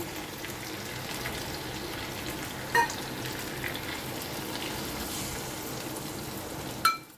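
Red chilli and cumin paste fries in a pan with a steady, moderate sizzle and hiss, broken by a couple of clinks from a utensil, no talking.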